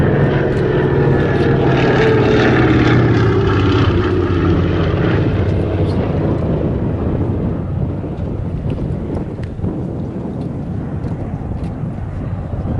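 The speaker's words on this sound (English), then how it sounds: "While this aircraft looks like an early transport passenger aircraft" Vintage propeller transport aircraft, an early passenger type, passing at an airshow: a loud, sustained engine drone that peaks early then slowly fades into wind-buffeted background noise.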